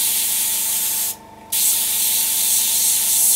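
An airbrush sprays at full trigger and full air, a loud steady hiss that cuts out for a moment and then resumes just as strongly, with no talking.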